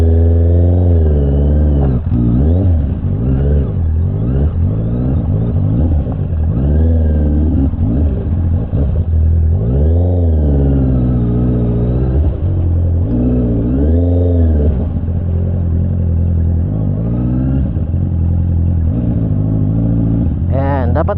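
Big motorcycle engine revving hard on a weekend ride over sandy ground, a loud continuous roar rising and falling in pitch as the rider accelerates, with the sound dropping briefly as power cuts.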